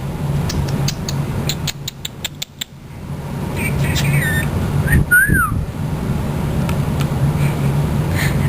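A pet cockatiel or budgie whistles in quick bright bursts and chirps, with a rising-falling whistle midway, close to the mic over a steady low room hum.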